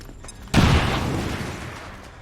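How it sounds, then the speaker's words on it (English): A grenade detonates in XCOM 2, a single sudden loud boom after a quiet lead-in, then a long rumbling decay that fades over the next second and a half. "Je lance une grenade."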